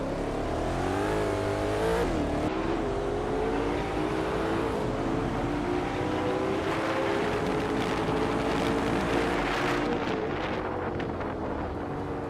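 A 2006 Saleen S7 twin-turbo supercar in a racing game, its engine droning steadily with rising and falling revs and gear shifts under rushing wind noise, loud and continuous.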